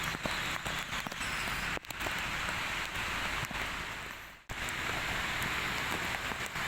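Heavy rain pours down steadily in Banjarmasin, a dense, loud, close hiss of drops on surfaces with a brief break near the middle.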